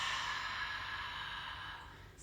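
A steady, breathy exhale in a pranayama breathing exercise, close and continuous for about two seconds, with a soft airy hiss that fades slightly toward the end.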